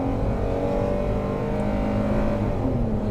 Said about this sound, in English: Now the Pentastar does love to scream.